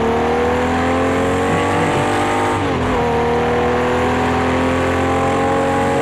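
A Jaguar E-Type engine in the racing game Project CARS 2 revs hard and steadily, then drops briefly in pitch as a gear changes, and the tone climbs again, loud and continuous, with no voice over it.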